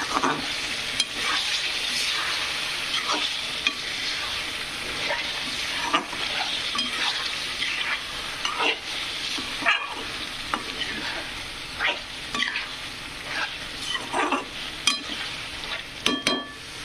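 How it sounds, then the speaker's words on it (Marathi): Masala with eggs fries and sizzles steadily in a pan for an egg curry, with repeated scraping and clinking strokes of a spoon stirring throughout. There is no talking. "मसाल्यात फ्राय करून घ्यायचं पूर्णपणे."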